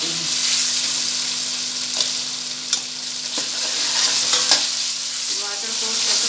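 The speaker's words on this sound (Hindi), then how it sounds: "टमाटर को तब तक भूनें जब तक ये सॉफ्ट अच्छी तरह से होना नहीं" Tomatoes fry with ginger-garlic paste in a pan, a strong continuous sizzle broken by a few scraping stirs of a utensil, no talking.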